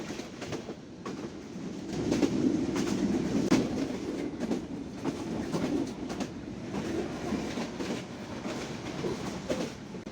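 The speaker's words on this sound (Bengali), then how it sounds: "Lokmanpur rail station through pass যাচ্ছে আমাদের পদ্মা এক্সপ্রেস ট্রেন।" The Padma Express passenger train runs through Lokmanpur railway station without stopping, a steady low rumble with rapid clickety-clack of wheels over rail joints, heard from on board with no talk.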